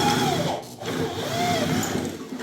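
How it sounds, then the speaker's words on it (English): A power drill enlarging a hole to the next size up on a part of an RSF650 mini electric street bike, steady close whirring and grinding throughout, with slight changes in pitch under load and no talking. "Pre-drill with this one, and then drill with this one to make it the next size up."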